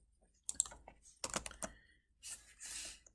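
Keys on a computer keyboard clack in quick, irregular bursts, heard close and fairly quiet, with a brief pause between the runs of typing.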